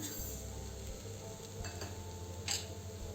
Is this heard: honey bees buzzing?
no